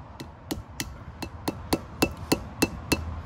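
A clean hammer taps a stuck part about ten times in a steady rhythm during front brake, rotor and bearing work on a 1994–2004 GMC Sonoma pickup, each strike sharp, close and loud with no talking.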